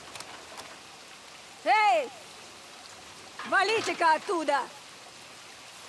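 Steady, hissing rain fills a scene in a crime action film, constant and even throughout, while someone shouts two brief outbursts over it.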